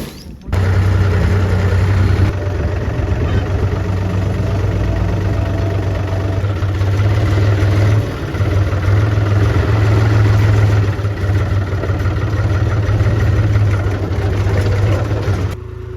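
A John Deere tractor engine runs loud and close, a steady low drone with a strong deep hum that holds throughout, with someone talking over it.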